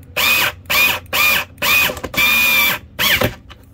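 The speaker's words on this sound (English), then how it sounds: "This thing has got a mad amount of torque for a little motor." Small electric motor of a Watersnake Venom SX trolling motor under repair, running in about six short, loud bursts, each a high whining buzz that starts and stops sharply.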